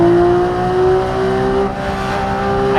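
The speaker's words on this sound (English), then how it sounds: "So I'm gonna do a first gear pull here" A loud 991 Porsche 911 GT3 engine revs hard and climbs steadily in pitch during a strong first-gear acceleration, heard close up without speech.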